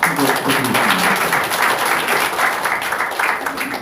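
A crowd at an emergency meeting of conservative group leaders breaks into warm applause, steady and loud clapping that continues throughout.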